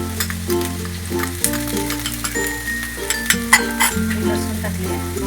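Ginger sizzles and fries in a little oil in a pan for soup, a steady crackling hiss with occasional clinks of stirring over a low continuous hum.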